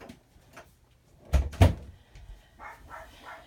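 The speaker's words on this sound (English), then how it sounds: "let me shut the door so we don't have to hear her going cuckoo." A door is pushed shut indoors in a craft room, giving two close, solid thuds from the door and latch in quick succession, followed by faint rustling.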